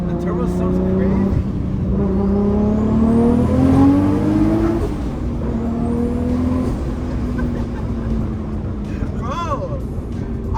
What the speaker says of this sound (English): The turbo sounds crazy.